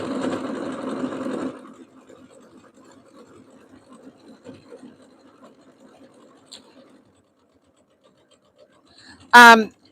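A sewing machine stitching pillows whirs in a loud, steady burst for under two seconds, then falls to faint intermittent mechanical ticking and quiet, ending with a brief sharp noise near the end.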